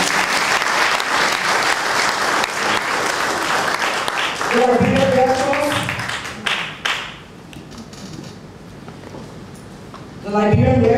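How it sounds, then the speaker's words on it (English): Audience applause at a 2018 Liberian medical mission event: dense, sustained clapping from a crowd fills the first few seconds, then fades under someone speaking, with clapping swelling again briefly at the end. "Please clap for the"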